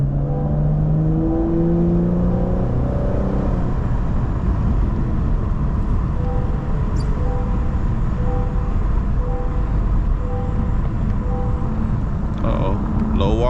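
A supercharged V8 in a Cadillac CT5-V drones steadily and loudly from inside the cabin, with a rising rev early on and talk over the engine.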